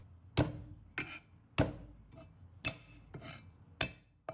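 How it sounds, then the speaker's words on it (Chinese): A knife smashes and chops garlic on a board in a home kitchen, making about eight sharp, close thuds in an uneven rhythm with no talking. "再准备一把大蒜，把它拍碎"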